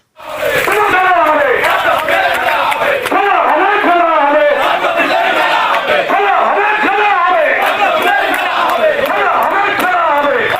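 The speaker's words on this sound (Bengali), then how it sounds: "এদিনে বিজেপির পরিবর্তন যাত্রায় উঠে এলো বিজেপির কর্মী সমর্থকদের স্লোগান, খেলা হবে খেলা, পদ্ম ফুলে খেলা হবে।" BJP supporters at a rally chant a slogan in unison, a loud massed crowd of voices repeating a rhythmic call over and over, close and continuous.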